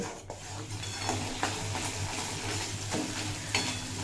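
Masala paste fries in oil, with water added, as it is stirred, a soft continuous sizzle overlaid with scraping and light clinks of a spoon against the pan, fairly quiet and close, without speech.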